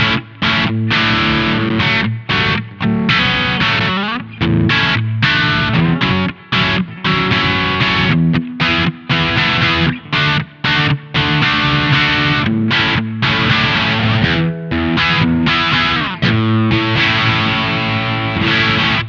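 An electric guitar through a Fulltone OCD 1.7 overdrive pedal plays loud, heavily distorted chords and riffs with short choppy breaks between strums, close and dense with no talking.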